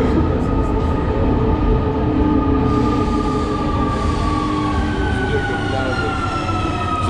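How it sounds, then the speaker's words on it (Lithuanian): Rome metro train rumbling and screeching through an underground station, loud steady rolling noise with rising metallic squeals, faint voices in the background. "Va čia ir metro toks baisus."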